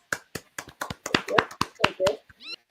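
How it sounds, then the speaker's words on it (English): A small audience gives brief, scattered applause to welcome a hypnotist onto a show: about a dozen sharp, separate claps over under three seconds, close and fairly quiet. "Applause."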